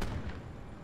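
A single heavy gunshot in Call of Duty Black Ops 4 booms near the start, fired at the player, with a thudding decay fading out over the rest of the moment.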